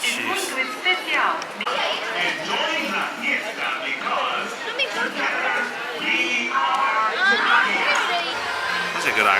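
Dense crowd noise from a busy high-crowd day at Magic Kingdom theme park, continuous mixed chatter and distant shouts filling the background throughout, with a nearby voice talking over it.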